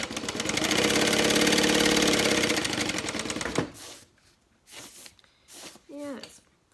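Sewing machine stitching a medium handbag runs in a steady, fast mechanical chatter for several seconds, then stops, leaving scattered handling clicks and a voice talking.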